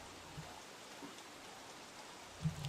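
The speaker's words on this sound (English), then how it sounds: "this rain is really causing problems." Steady rain falls in the video game Don't Starve: Reign of Giants, a soft, even hiss of drops that continues unbroken, with a few faint low knocks scattered through it.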